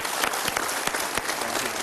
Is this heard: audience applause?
yes